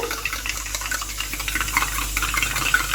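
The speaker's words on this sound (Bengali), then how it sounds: "এই যে একটু দুধ দিলাম দিয়ে এটাকে ভালো করে মিশিয়ে একটুখানি গুলে নেব" A spoon stirring milk into coffee in a cup for a homemade cappuccino, a steady soft scraping and swirling that stays close and continuous, with no voices.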